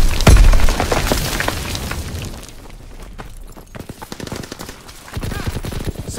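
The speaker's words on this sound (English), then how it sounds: "keep firing!" Rapid gunfire in Call of Duty: WWII multiplayer in the Ardennes Forest, a loud opening blast followed by bursts of automatic rifle fire and scattered shots, some near and some distant, with brief in-game voice callouts.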